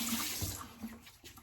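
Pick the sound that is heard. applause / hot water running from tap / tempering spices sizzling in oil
hot water running from tap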